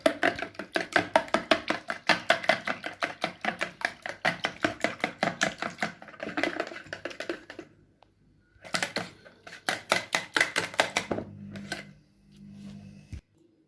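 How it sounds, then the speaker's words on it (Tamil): Egg batter beaten briskly in a bowl for crispy egg fingers, rapid rhythmic clacking strokes in fast bursts with short pauses, close and fairly loud, no talk. "இப்போ இதை நல்லா மிக்ஸ் பண்ணி எடுத்துக்கலாம்."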